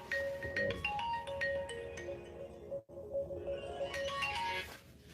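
A phone rings with a melodic ringtone, a repeating pattern of clear tones that plays on steadily with a brief drop partway through, with no voices.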